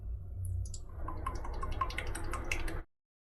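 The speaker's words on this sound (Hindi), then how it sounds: "चलिए हम इसमें तेल डाल दिए सरसों का" Mustard oil poured into a heated kadhai, a continuous close liquid stream with soft gurgling and dripping that stops abruptly near the end, no talk.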